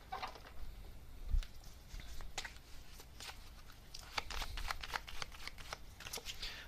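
Tarot message cards are shuffled up close, giving a soft, steady patter of riffling and sliding cards with a few sharper flicks over a quiet room background.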